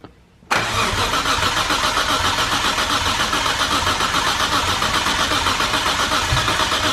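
Nissan RB26 single-turbo engine turning over on the starter during a first start attempt, a steady loud churning whir that begins abruptly after a brief silence and continues without catching for several seconds.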